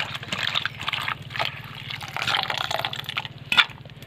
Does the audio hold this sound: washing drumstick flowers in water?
yes